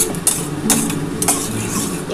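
Whole dried red chillies and whole garam masala spices frying in hot oil for chana dal, a steady close sizzle broken by a few sharp scrapes and clinks of a stirring spoon against the pan.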